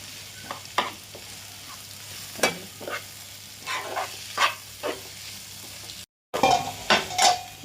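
Chili powder is stirred into a vegetable stuffing frying in a pan, with repeated close scraping spoon strokes over a soft sizzle and a brief gap near the end.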